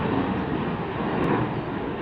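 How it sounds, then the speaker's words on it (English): A Boeing 737 airliner departs Salt Lake City airport with a loud, steady broadband jet roar that holds evenly throughout the short stretch. "the 737 always seems to take a little bit longer to depart than the Airbuses"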